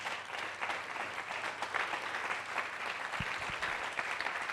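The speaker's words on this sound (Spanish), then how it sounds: "aplauda con ganas, hermano." A church congregation applauds in a steady, dense wash of clapping that lasts throughout, filling the room at moderate loudness.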